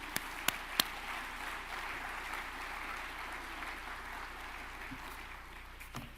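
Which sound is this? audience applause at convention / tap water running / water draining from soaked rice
audience applause at convention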